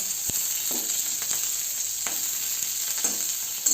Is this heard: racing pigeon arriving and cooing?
no